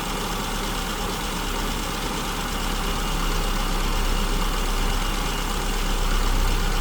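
An engine with an SU carburetor idles with its mixture set too lean, a steady, close, continuous rumble with a slightly uneven beat, heard alone without talk.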